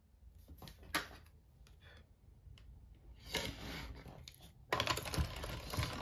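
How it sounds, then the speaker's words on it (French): Paper passes through a mini Happy Cut die-cutting machine. Quiet, scattered clicks and light mechanical ticks give way to a steadier, louder rolling grind near the end, heard close with no talking. "je vais passer dans la mini Happy Cut"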